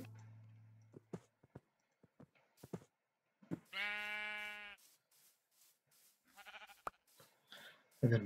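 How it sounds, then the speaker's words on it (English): A single sheep bleats in a Minecraft game, one loud wavering cry among scattered clicks, game sounds and brief quiet talk. "And another sheep over here."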